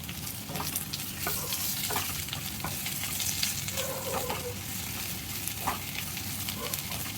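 A pan sizzles steadily as curry leaves and mint are stirred through hot oil, with scattered light taps and scrapes of a spoon over the constant frying hiss.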